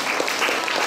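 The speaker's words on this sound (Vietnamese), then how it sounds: "Xin quý vị cho một tràng pháo tay để chào đón đoàn lăng của chùa Huệ Quang ngày hôm nay." Applause greets a temple's lion dance troupe at a Buddhist year-end ceremony, a short dense wash of clapping from a crowd.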